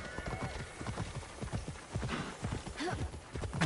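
Horse hooves clip-clopping in the Immortals Fenyx Rising video game, a steady run of close hoofbeats with a brief whinny-like cry near the end and faint game voices in the background.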